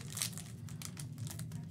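Crinkling plastic wrapper of a 2021 Select UFC trading card pack being torn open, a brief run of close, soft crackles with no talking.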